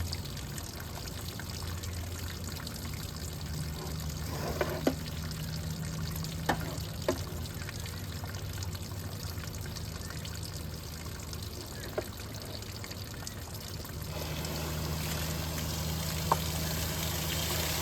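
Water runs steadily through a GE Superthrust air conditioner as coil cleaner and debris are flushed out, a continuous trickling pour with a few faint knocks and no talk.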